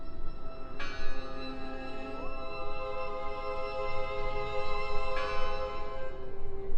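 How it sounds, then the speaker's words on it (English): A bell rings in the horror video game Draugen, sustained tolling tones struck about three times in a row, ringing out alone over a low ambient hum. "I heard the bell!"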